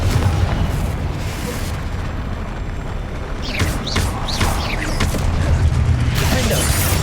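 Confringo spell blasts in the video game Hogwarts Legacy: a dense, continuous rumble of booms and crackling bursts, with several sharp whooshing sweeps clustered in the middle, loud throughout with no talk.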